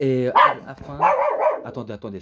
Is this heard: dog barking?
yes